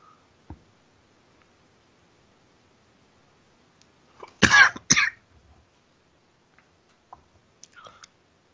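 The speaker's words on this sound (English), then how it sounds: "I'll have to try to mute my microphone every time I'm going to cough." Two quick, close coughs break an otherwise quiet room, with a few faint clicks before and after.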